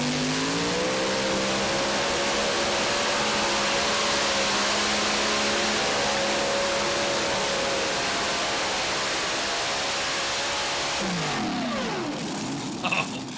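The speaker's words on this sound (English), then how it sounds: "That has a ton of horsepower right there." An unlimited-class pulling tractor roars through a pull at a truck and tractor pull in Tomah, Wisconsin. The engine is loud and sustained, its pitch climbing gradually, then swings and drops sharply near the end.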